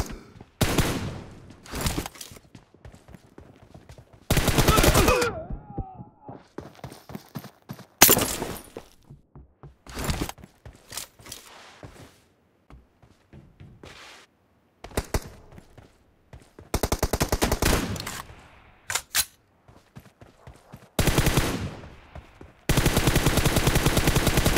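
Gunfire in a video game shooter: loud, close bursts of rapid automatic fire alternate with single sharp shots and short pauses, with no talking.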